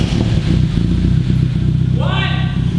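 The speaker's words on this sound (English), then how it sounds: "Exhaust is all connected with the new gasket up front. Now we can start it and hear it." The Miata-powered Datsun roadster idles close by with its new exhaust system, a loud, steady low rumble with rhythmic throb, then a voice speaks briefly over the engine near the end.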